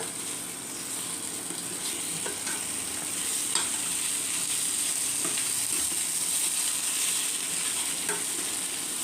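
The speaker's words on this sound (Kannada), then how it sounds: "ಸ್ವಲ್ಪ ಕೊತ್ತಂಬರಿ ಸೊಪ್ಪು ಎಲ್ಲನೂ ಒಮ್ಮೆ ಮಿಕ್ಸ್ ಮಾಡೋಣ." Masala pasta upma with coriander leaves sizzles gently in a pan while a spoon stirs it, making a steady soft frying hiss with light scraping taps throughout.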